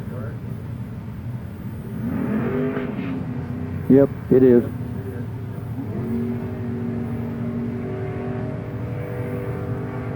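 A drag racing car accelerates down the strip at a Wednesday night drags event, its engine note rising twice in the distance beneath someone talking over the announcing system.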